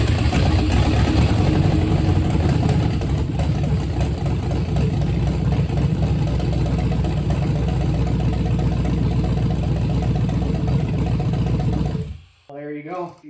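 A GM LS V8 engine runs on an engine stand in a garage, a loud, steady idle drone that holds for about twelve seconds before it cuts off abruptly, followed by a brief trailing sound.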